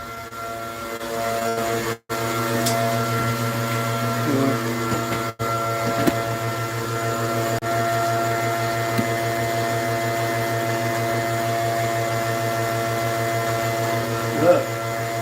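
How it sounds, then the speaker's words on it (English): Pump motor running steadily while distilling wash, a constant mechanical hum with a stable pitch lasting throughout, close and fairly loud, with a couple of brief dropouts and small knocks. "probably a good time to go make sure that that motor or that pump doesn't burn up"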